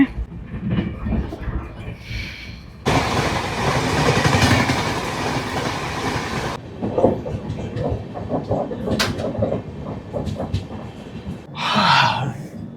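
A long-distance passenger train runs nonstop, with a steady rumbling roll and clickety-clack of the carriages that swells into a loud, close rush through the middle, and faint voices in the background.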